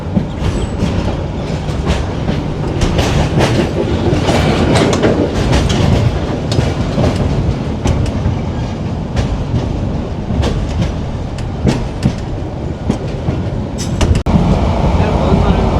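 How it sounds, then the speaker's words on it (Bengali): Proval Express train running from Cox's Bazar to Chittagong, heard from inside a carriage: a steady loud rumble with rhythmic clickety-clack of wheels and occasional rattles, continuous throughout. "এই যে ট্রেনের মধ্যে বসে আছি আর আমাদের ট্রেন চলতেছে"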